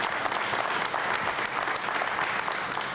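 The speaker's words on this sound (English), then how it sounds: "you should get another round of applause" An audience applauds volunteers at a community event, a steady wash of many hands clapping at close range throughout.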